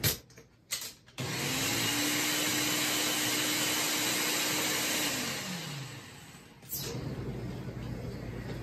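A Ninja blender whirs at high speed for several seconds pureeing basil pesto, a loud steady motor drone that winds down, then restarts for another burst after a short pause.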